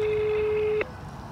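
A telephone busy tone on an unanswered call to a street-works contractor: one steady, clean electronic beep that holds for about eight tenths of a second, then cuts off into quiet line hiss.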